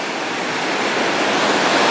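Ocean surf and wind roaring during Hurricane Dorian at Hillsborough Bay, a loud, steady broadband wash of crashing waves and gusting air with no break across the whole stretch.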